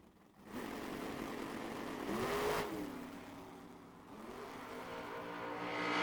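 Drag racing at the Lone Star Summer Shootout as a Fox Body Mustang and a throttle-stopped roadster launch down the strip, with loud engines roaring steadily and a rising pitch sweep midway as they accelerate away.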